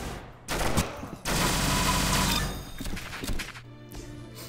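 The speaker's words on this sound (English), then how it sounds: "Similarly to the MG42, this weapon's fire rate is insanely high, higher than that even of the MG42's." Extremely fast automatic weapon fire in the Roblox game Arsenal, a brief burst followed by a longer sustained roaring stream of shots, loud and close, tapering off near the end.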